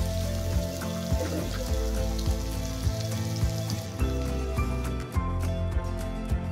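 Two medium-sized chopped onions fry in a pan, giving a steady, dense crackling sizzle with scattered sharp pops throughout, fairly close and with no talking.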